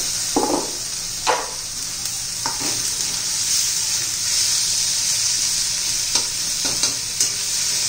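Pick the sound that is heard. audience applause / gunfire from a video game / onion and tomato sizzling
onion and tomato sizzling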